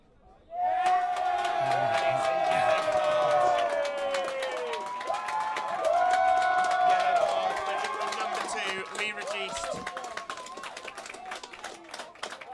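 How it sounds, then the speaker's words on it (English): A partisan Scottish crowd roars and cheers at a Scotland versus England student rugby league match, a sustained loud stadium din that fades gradually, with a commentator speaking over it. "That's a very, very popular decision with the partisan Scottish crowd"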